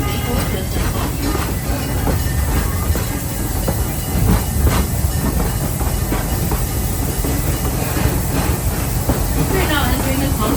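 Riding the Serengeti Express train at Busch Gardens Tampa Bay, a steady loud rumble of rolling cars with rhythmic wheel clacks and occasional squeals and hiss, heard from on board.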